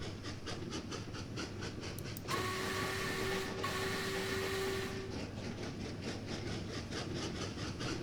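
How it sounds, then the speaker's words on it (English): Faster train rolling along in the railway video game Train Valley, a steady mechanical clatter with a sustained whistle-like tone sounding for a few seconds in the middle. "This is a faster train."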